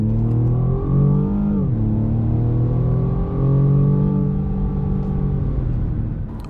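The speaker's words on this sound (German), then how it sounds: "Und ja, er sprintet ordentlich voran, der BMW M135i. Der 2 Liter Twin Turbo arbeitet richtig gut." The 2-litre twin-turbo engine of a 2020 BMW M135i xDrive pulls hard under acceleration, heard steadily from inside the car. Its pitch climbs through the gears with a brief dip at a shift, and there is no talk.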